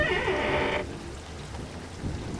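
Heavy rain and a thunderstorm rumble for a horror story at night, with a dense wash of downpour and a low, rolling thunder that fades after the first second.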